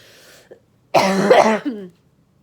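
A single harsh cough bursts out close by, followed by a brief throaty rasp, after a faint murmur.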